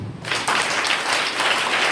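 Loud, dense applause from an audience of children and adults at a Quran academy event in Bettiah, Bihar, bursting in abruptly and holding steady as close, continuous clapping.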